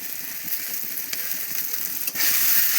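Spice paste with a splash of water and green chillies fries loudly in a pan for a cabbage fritter curry, a constant close sizzle broken by occasional stirring clicks that swells louder near the end.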